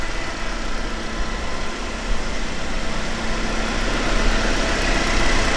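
A 2021 Jeep Wrangler Sahara's 2.0-litre four-cylinder engine idles close by, a continuous broadband rumble and hum that holds level throughout, growing slightly louder toward the end, with no voices.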